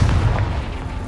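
A Confringo fire spell blasts in Hogwarts Legacy, a deep, booming burst with a rumbling low end that fills the short moment at steady loudness.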